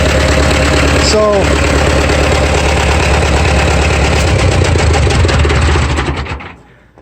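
A loud 1961 International B275 tractor engine rumbles steadily at idle with a rough, knocking chug, then suddenly winds down and cuts out near the end.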